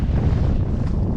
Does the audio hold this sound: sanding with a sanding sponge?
no